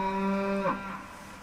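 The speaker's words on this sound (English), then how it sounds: "I hate those cows." A cow gives one long, loud moo close by on a farm, the drawn-out call rising briefly at the end before fading into quiet outdoor background.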